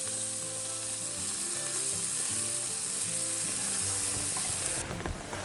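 Lean ground beef sizzling in a little oil in a Dutch oven at a campsite in the Great Smoky Mountains, a steady loud crackling fry with faint scraping as it is broken up, continuous and close, no voices.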